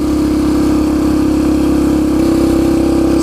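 A Yamaha TTR 125 motorcycle engine runs steadily and loud at a constant speed, its low droning hum unbroken throughout with no voices over it.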